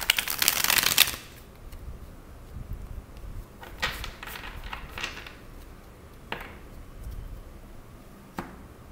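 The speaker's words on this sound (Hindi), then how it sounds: "चलिए अब आपकी लव लाइफ के लिए कार्ड्स लेते हैं." Tarot cards shuffled by hand in a loud, dense riffling burst lasting about a second, followed by quieter occasional handling clicks and soft rustles.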